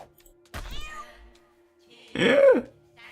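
A cat in the South Park: The Stick of Truth video game gives two separate meows, a short one followed by a louder, drawn-out call that rises and falls, set against a faint steady tone.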